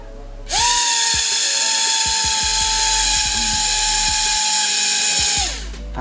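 A small drone motor with a propeller, powered from a battery, spins up into a loud, steady high-pitched whine. It holds for about five seconds, then winds down, with a few faint clicks underneath.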